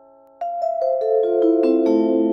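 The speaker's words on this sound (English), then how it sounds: "and a vibraphone." A sampled vibraphone plays a short descending run of about eight mallet notes, each soft attack blooming into a warm, sustained metallic tone that overlaps with the next and keeps ringing at the end.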